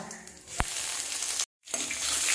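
Dried red chillies and ginger frying in hot oil, a steady close sizzle broken by a sharp knock and a brief dropout before the hissing resumes, no talk.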